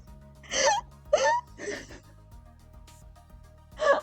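Several sharp, high-pitched vocal hiccups from a woman streaming, three in quick succession near the start and one more at the end, close and fairly loud over a quiet low background hum.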